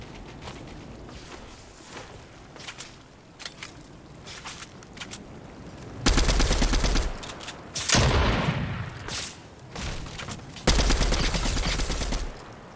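Gunfire from the video game Fortnite: several loud bursts of rapid shots, clustered in three heavy volleys in the second half, with lighter scattered shots and game noise before them.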